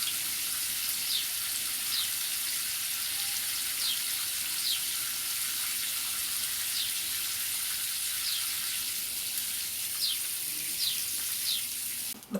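Water runs steadily from a hose or can onto vegetable plants at the base on a hot allotment, a continuous soft hiss and splash with faint brief chirps in the background.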